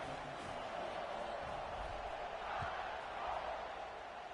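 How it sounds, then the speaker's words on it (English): Stadium crowd at a college football game keeps up a steady, broad buzz, with a slight swell partway through and a faint thump near the middle. "this crowd is buzzing after that last score"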